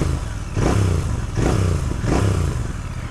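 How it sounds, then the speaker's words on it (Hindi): A Royal Enfield Bear 650 parallel twin engine and exhaust rev hard three times in a row, each a loud throaty rising roar over a steady close idle, no talking. "the moment you throttle hard you get to feel the engine and the exhaust sound"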